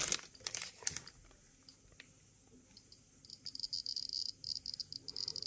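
A Geiger counter dosimeter clicks beside a radiation source: a few handling rustles first, then rapid, irregular bursts of sharp ticks that grow denser toward the end, close and fairly quiet.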